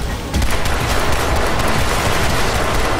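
Pistol gunfire in the shooter game Crysis 3, a dense burst of rapid shots and blasts that swells after a brief quieter start and stays loud and continuous, with no talking.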